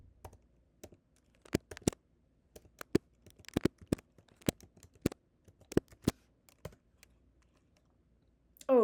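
A password is typed on a computer keyboard, a close, sparse run of separate clicking key taps in an irregular rhythm over a quiet background, ending with a short burst of voice.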